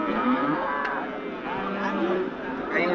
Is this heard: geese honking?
no